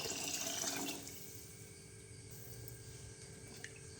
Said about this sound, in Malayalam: നമുക്കിതിലേക്ക് ഇനി കുറച്ച് വെള്ളം ചേർക്കാം.